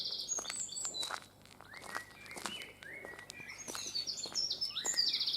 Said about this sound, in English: a lovely bird song